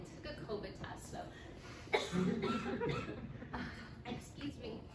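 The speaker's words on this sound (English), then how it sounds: "I'm sorry, I just have to cough" A person coughs a few times during a spoken presentation on homelessness, with short bursts mixed into continuing speech.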